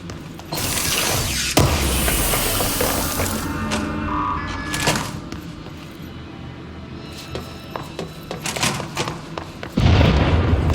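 Explosion and mechanical clanks in the video game Control: a sharp boom early on, then ratcheting machinery and metallic rumbles, with a second loud surge of noise near the end.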